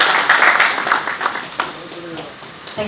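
Audience applause fills the hall at the inaugural session of the Nobel Media Conclave 2021, a steady, dense clatter of many hands that fades slightly toward the end, with a voice talking over it.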